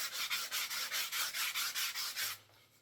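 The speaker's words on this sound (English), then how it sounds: "This is the last opportunity to sand imperfections off." A wooden flute from a pre-bored kit being hand-sanded to remove imperfections, with a steady series of about a dozen rhythmic rubbing strokes, close and even, then stopping.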